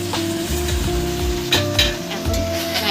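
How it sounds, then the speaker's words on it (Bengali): Mutton sizzles in a hot pan as it is stirred after the lid comes off, a steady loud frying hiss with a few scraping stirs and a low hum beneath. "এখন নাড়িয়ে চাড়িয়ে দেবো ভালো করে।"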